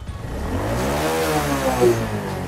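A Honda CBR150 motorcycle engine is revved hard up close, its loud tone sweeping upward in pitch and then easing slightly, heard alone.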